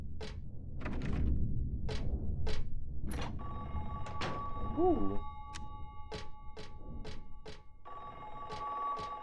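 A telephone rings repeatedly in Silent Hill 3, a steady series of sharp electronic bell bursts over eerie game ambience, with a brief vocal exclamation near the start.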